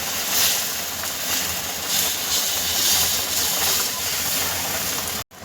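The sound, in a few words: thalipeeth batter sizzling on a hot oiled griddle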